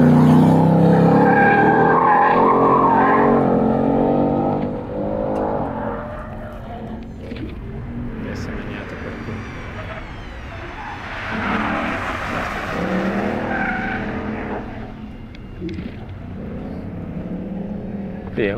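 A rear-wheel-drive sports car drifts with its engine roaring loudly and steadily from start to finish, while tires squeal and skid beneath it.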